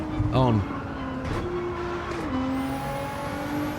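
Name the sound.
Viper race car engine in Gran Turismo, from a video game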